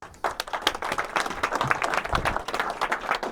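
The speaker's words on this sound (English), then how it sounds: "A round of applause." Audience applause at a visual effects keynote in London, with separate claps close by as it builds into a loose, uneven patter that carries on to the end.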